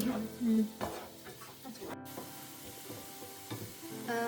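Chopped onions frying in a pan for vegetable fried rice: a continuous sizzle broken by stirring scrapes and clatter, with a few louder thumps, close by and without speech.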